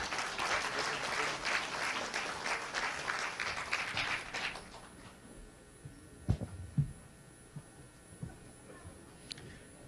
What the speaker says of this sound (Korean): 여러분들께서는 큰 박수로 맞아주시기 바랍니다.